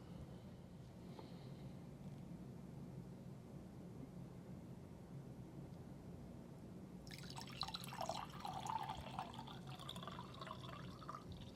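Water drips and then pours into a vessel during an ASMR Reiki session, soft scattered drips giving way to a fuller splashing pour, close and gentle.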